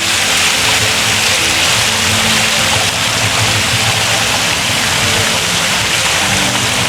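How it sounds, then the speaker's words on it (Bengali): A park fountain pours water from a lion's mouth, a loud, steady broadband rush of falling water that continues unbroken throughout. "এখানে সিংহর মুখ থেকে পানি বের হচ্ছে"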